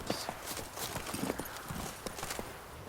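Horse hooves clip-clopping at a steady gallop in The Witcher 3, a continuous rhythmic pattern of fairly loud, close hoofbeats with a faint whinny-like note, no talking.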